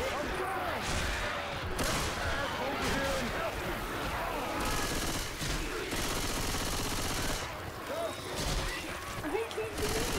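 Rapid gunfire with incendiary ammo in Left 4 Dead 2, a continuous dense barrage of shots and crashes running throughout, mixed with chaotic game noise and voices.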